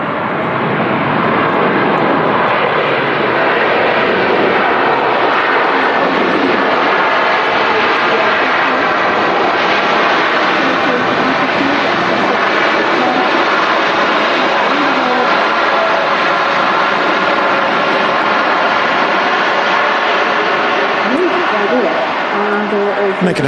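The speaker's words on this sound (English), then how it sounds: "The Saudi Dreamliner. Wow, greasing the runway." A Saudi Boeing 787 Dreamliner lands at Manchester Airport, its steady, loud engine roar and rushing jet noise filling the whole stretch, with voices talking over the aircraft throughout.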